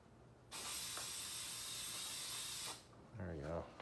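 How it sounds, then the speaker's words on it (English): An aerosol spray can releases one long, steady, close hiss for about two seconds before stopping, followed by a brief voice. "I'm just going to spray it on."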